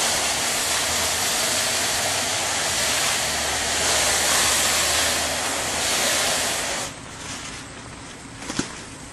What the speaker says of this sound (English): Now we're going to rinse off the vinyl siding.